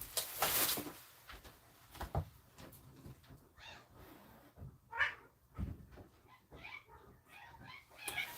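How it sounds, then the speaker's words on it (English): Blind cat caterwauling at another cat indoors, a series of uneven yowls and cries scattered across several seconds, with a loud burst at the start and fainter calls after. "We have a blind cat and he was trying to have his way with one of the other cats"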